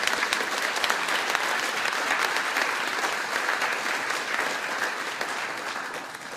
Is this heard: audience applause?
yes